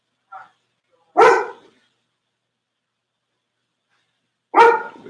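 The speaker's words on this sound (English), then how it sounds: "You barking like you don't know who that is." A dog barks indoors, first one small yip, then a single sharp bark, and after a long silence a second loud bark, close to the listener with quiet in between.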